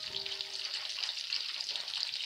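Chicken wings with the skin on sizzle steadily in a covered pan, a continuous close hiss of frying with no talking over it.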